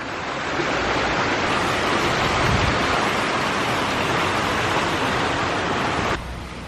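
Loud, steady rushing water at Coronado Springs Resort, Disney World, fills the scene, a broad continuous roar that stays even throughout before easing slightly at the end.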